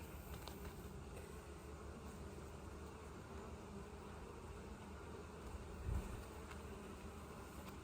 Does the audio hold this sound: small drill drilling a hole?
no